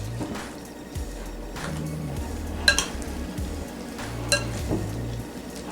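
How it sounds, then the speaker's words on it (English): A spoon stirs crab snow legs, pollock and surimi salad in a bowl: soft, wet, squishing mixing with occasional light clinks of utensil against bowl, close up and without talk. "And slowly blend it with the mix."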